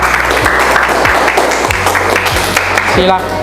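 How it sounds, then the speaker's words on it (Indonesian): Classroom applause for a student disaster-mitigation group after their presentation at a senior high school, a steady wash of clapping with low rhythmic thumps and a short tonal sound near the end, voices mixed in. "tepuk tangan untuk kelompok Puting Beliung"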